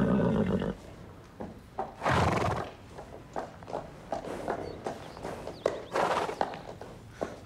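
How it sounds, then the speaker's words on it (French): In a cartoon, a horse gives a loud whinny, then hooves clop and thud in an uneven string of steps, ending in a second sharp neigh. "Regardez, il est à qui ce cheval?"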